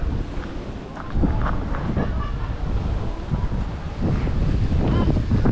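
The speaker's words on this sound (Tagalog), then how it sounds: "Dahil lakas ng hangin" Strong wind in Pililla, Rizal roars and buffets steadily across the whole stretch, loud and close, with rushing water beneath it.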